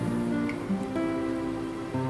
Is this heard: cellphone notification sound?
no